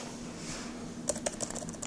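Fingers tapping keys on a Dell Inspiron 15R Special Edition laptop keyboard: after a second of quiet room hiss, a short run of about half a dozen soft, quick clicks, close and fairly quiet.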